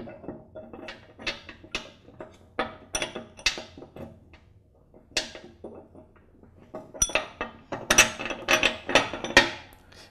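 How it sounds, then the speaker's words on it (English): Metal bolt being fitted through a spacer on the deck of a Troy-Bilt Pony lawn tractor: a close series of sharp metallic clinks and taps in irregular bursts, louder clattering toward the end, with no talk. "I'll insert the bolt first through the spacer,"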